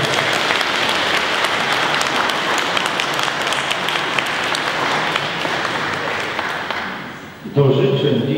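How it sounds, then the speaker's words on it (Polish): An audience applauds at an anniversary gala for a folk ensemble in Pasłęk, with dense, loud clapping for about seven seconds before it breaks off abruptly into a different sound. "więc proszę o gromkie brawa"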